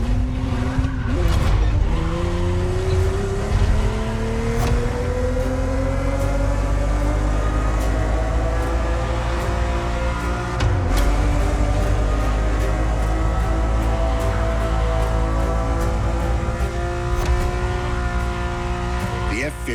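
A Ferrari F50 with a naturally aspirated V12 in The Crew Motorfest revs hard and close, its pitch climbing through the gears with sharp shift breaks. Someone talks over the steady engine howl.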